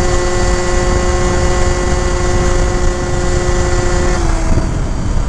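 A Yamaha Zuma 70cc scooter with a Stage 6 Minarelli engine and tuned CVT runs at steady high revs while climbing a slight hill, a loud continuous whine with a faint pitch dip near the end, no talking.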